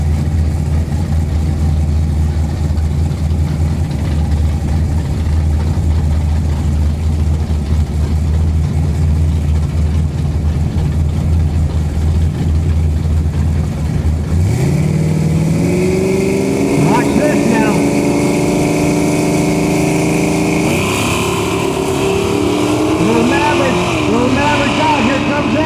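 Carbureted, naturally aspirated race trucks roar loudly at a no-prep drag race. A deep, steady engine drone shifts into rising high-revving engine pitches partway through, with a crowd and announcer chatter in the background.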